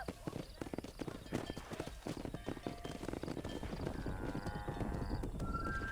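Horses in the video game Red Dead Redemption Remastered clip-clop steadily on the move, their hooves thudding continuously, with a whinny near the end, while someone talks over them.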